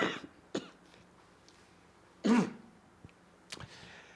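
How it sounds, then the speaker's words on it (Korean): A person coughs a few times in a quiet indoor space during a Korean church sermon, with a couple of sharp, close coughs and some softer throat clearing between them. "기침이 좀 있어서 죄송합니다."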